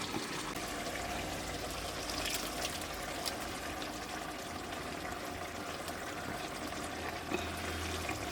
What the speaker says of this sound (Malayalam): അരച്ച വെള്ളവും കൂടെ ചേർത്ത് കൊടുത്തിരിക്കുകയാണ്.